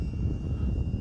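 An FMS Beaver 2000mm foam RC airplane flies past, its electric propeller motor giving a steady, moderately faint drone with a thin high whine throughout.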